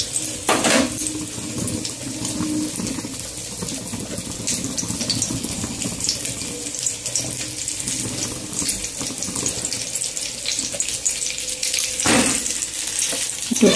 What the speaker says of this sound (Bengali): চলো, এতে ঝিঙেটা একটু ভেজে নিয়ে আগে।